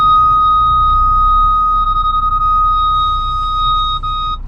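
A VW Tiguan's parking sensor sounds a steady high electronic tone close by, breaking into a rapid run of short beeps partway through and then holding solid again as the car edges toward branches, over low engine rumble.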